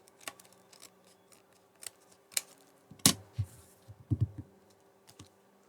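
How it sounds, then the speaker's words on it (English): Small scissors snip the overhanging threads from the edge of a handmade thread card, giving a quick scattering of crisp, close cuts with a few sharper clips in the middle. "I just need to trim off the bits that overhang"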